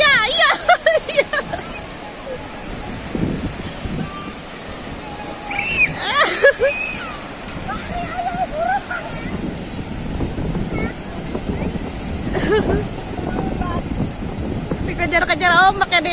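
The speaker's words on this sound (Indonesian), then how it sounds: "Dikejar-kejar ombak ya dia." Ocean surf washes steadily onto a sandy beach at Pantai Samudra Baru in Karawang, a constant hiss with wind buffeting the microphone, mostly under adults and children talking nearby.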